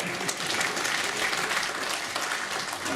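Sustained crowd applause at a presentation, a continuous, even roar of many people clapping at moderate volume, with no single claps standing out.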